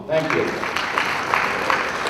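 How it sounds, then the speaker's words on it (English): A conference crowd applauds with steady, dense clapping, with a voice briefly audible at the start over the applause. "give you guys yourself a nice round of applause"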